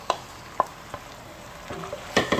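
A bacon and onion mixture drops into a casserole pot and starts frying, giving soft sizzling under a few light knocks and stirring clatters, fairly quiet and close.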